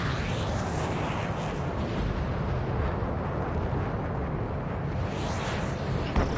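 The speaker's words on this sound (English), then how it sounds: "Missile hit." A missile strikes its target in the Ace Combat 7 flight combat game, producing a loud, dense roaring blast that rumbles steadily for several seconds without a break. No one speaks over it.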